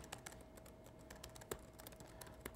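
Typing on a computer keyboard while coding a Core Data iCloud demo, with scattered soft key clicks and a few sharper taps, fairly quiet and without speech.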